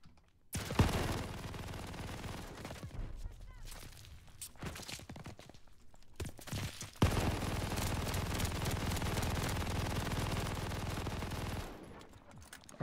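Rapid automatic weapon fire in Call of Duty: Vanguard multiplayer, loaded with smaller-calibre Japanese ammunition, rattling in long sustained bursts with brief pauses amid game noise.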